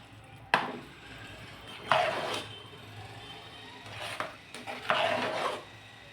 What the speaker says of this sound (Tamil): அடி பிடிக்காத அளவுக்கு கலரி விட்டுங்க